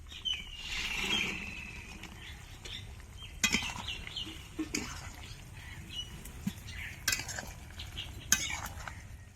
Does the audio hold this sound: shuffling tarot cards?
no